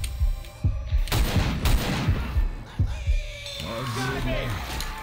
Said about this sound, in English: Shoot that gun!